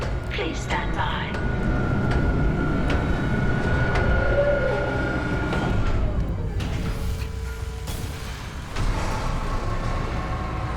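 A damaged tram car is swapped out in the Dead Space Remake on PS5, giving a steady mechanical rumble with whining tones and metallic clanks under a constant droning hum, ending in a heavier shift.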